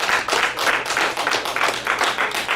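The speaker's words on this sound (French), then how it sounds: "On applaudit Virginie." A modest audience at a thesis-in-180-seconds competition claws out applause for a contestant, a short burst of clapping with uneven surges, fairly close and alone without speech.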